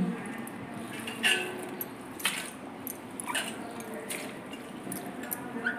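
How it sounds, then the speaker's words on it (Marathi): Chopped vayda leaf mince being washed in water, soft squelching and dripping splashes in a few quiet bursts, close and faint, no talk. "अजून सेकंड पाण्याने मम्मी वॉश करते खिम्याला, वायद्याचा खिमा"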